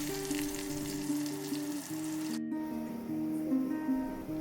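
Sliced onions frying until crisp in oil for a Kerala-style chicken biryani, giving a steady close sizzle with a brief break midway, no talking.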